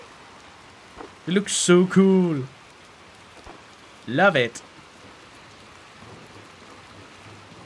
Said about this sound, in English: God, I love the rain so much.